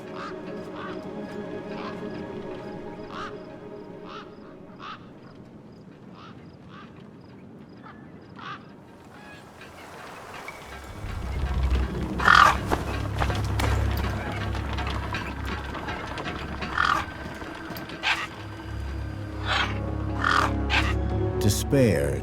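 Scavenger gang birds caw and squawk repeatedly in a wasteland scene of the video game Beyond a Steel Sky, sharp calls scattered over a rising low rumble of ambient game sound, with a narrator speaking over them.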